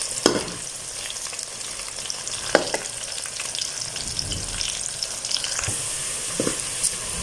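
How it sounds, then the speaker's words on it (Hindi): Chopped onion frying in hot ghee, a steady close sizzle with a few sharp clinks and stirring scrapes over about seven seconds, with no voices. "घी हमारा गर्म हो गया है। एक अदर प्याज वो हमने काट दिया था, वो डाल रहे हैं।"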